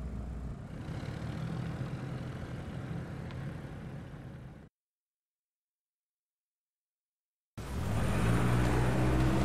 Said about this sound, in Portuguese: O carro tá funcionando, então.